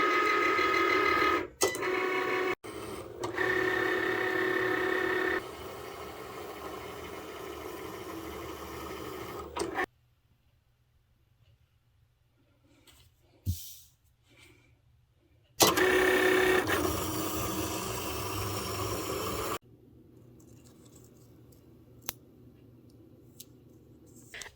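A Cricut cutting machine cutting sticker sheets, heard as close mechanical whirring in several long runs broken by near-silent pauses and a few clicks, with no talking.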